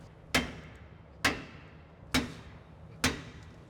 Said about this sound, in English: Just you grab a hammer and beat on something, guys.